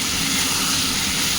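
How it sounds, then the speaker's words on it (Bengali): Potatoes, peas, onion and tomato fry together in a pan, giving a loud, steady sizzle with faint stirring scrapes throughout, no voices. "এই যে এখানে আলু আর মটরশুঁটি পেঁয়াজ টমেটো একসাথে ভাজছি।"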